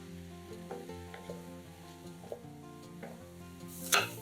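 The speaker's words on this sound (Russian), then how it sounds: "Нарезанные грибы насыпаем на горячую сковороду и готовим на большом огне до испарения жидкости." Sliced mushrooms cook in a hot pan over high heat with a soft, steady sizzle under quiet music. Near the end there is one brief sharp clink.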